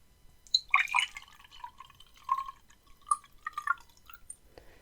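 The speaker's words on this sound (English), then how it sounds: "then we just fill it up with tap water" Tap water is run into a container in a quiet indoor setting, with faint, scattered drips and small splashes trickling irregularly, close by and with no talk.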